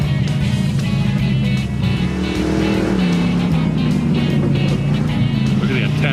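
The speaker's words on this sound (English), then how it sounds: "Imagine 20 cars that look similar ripping around." Several race cars rip around a track in a steady, loud engine drone with overlapping passes and tire noise, under continuous crowd and commentary talk.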